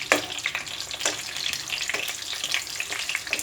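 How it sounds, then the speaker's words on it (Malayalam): Brinjal (eggplant) pieces fry in hot oil for a brinjal masala, giving a dense, steady sizzle with crackling bursts. The sound is close and continuous, and no one speaks. "ഇനി നമുക്കിതൊരു 3/4 ഭാഗം കുക്കാവുന്നവരെ ഇതങ്ങോട്ട് വറുത്തെടുക്കാം"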